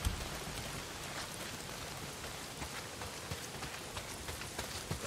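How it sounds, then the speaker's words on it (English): Heavy rain pours down in the video game Days Gone, a dense, even hiss of downpour with scattered louder drops. It runs steadily throughout with no voices. "not if it's pissing down rain"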